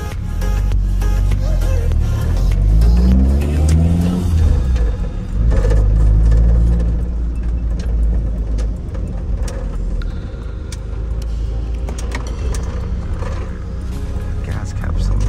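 A car engine rises to a loud, close roar with a sweeping rev around the middle, then settles into a steady lower drone as the vehicle keeps running.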